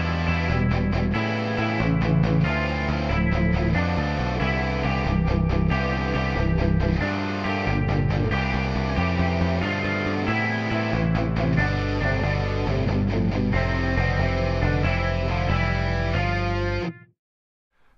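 Heavily distorted electric metal guitars chug through dense, rich ninth chords in a steady rhythm, loud and continuous, then cut off abruptly near the end.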